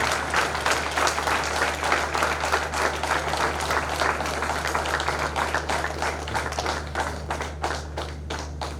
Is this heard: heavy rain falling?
no